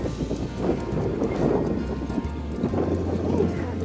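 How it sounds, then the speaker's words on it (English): Strong gale-force wind gusting across a boat marina, buffeting the microphone with a continuous low rumble and swelling gusts, with no talk. "it's too windy here."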